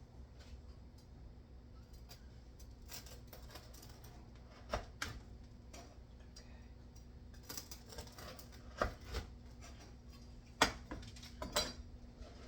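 A very sharp knife cuts through baked vegan almond biscotti in a kitchen, making faint, intermittent crisp crunches and taps on a board. Some cuts come as sharper single clicks, with quiet room noise between them.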